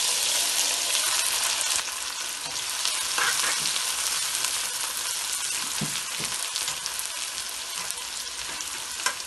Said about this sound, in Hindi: तो हम बहुत गर्म तेल में डालेंगे प्याज।